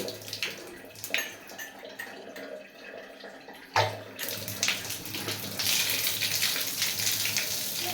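A running water tap being shut off: a steady close splash of flowing water with a sharp knock about halfway through, then the rushing continues and grows brighter toward the end.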